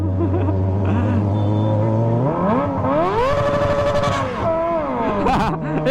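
A Kawasaki ZX25R fitted with a loud Toce aftermarket exhaust idles, then is revved hard repeatedly toward the limiter, its high-pitched inline-four wail rising and falling in sharp sweeps, loud and close.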